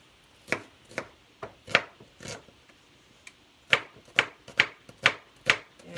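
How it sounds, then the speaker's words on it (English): Knife chopping onions on a cutting board: a series of sharp, close thuds in an uneven rhythm, some louder than others, with no talking. "then I start chopping my onions"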